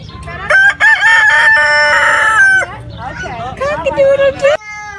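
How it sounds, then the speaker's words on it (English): A rooster crows loudly and close by: one long, sustained cock-a-doodle-doo, followed by a string of shorter, wavering calls. "Cock-a-doodle-doo. Yeah. He's yelling at the cat."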